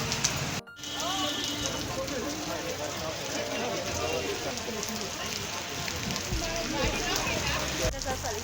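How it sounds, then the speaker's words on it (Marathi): Heavy monsoon rain pours down in a steady, dense roar that continues without a break on the Brahmagiri pilgrimage trail at Trimbakeshwar. Voices can be heard faintly beneath it. "इतका पाऊस पडत आहे"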